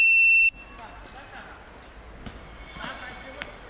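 A workout timer at a CrossFit championship WOD gives one loud, sharp electronic beep lasting about half a second, followed by quieter gym background noise.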